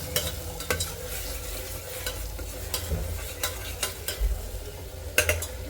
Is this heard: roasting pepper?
yes